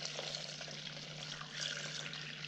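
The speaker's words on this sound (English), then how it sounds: "So you just want to pour this nice and easy." Bone broth with mushrooms is poured through a strainer, giving a quiet, continuous trickling stream of liquid with a faint steady hum underneath and no talking.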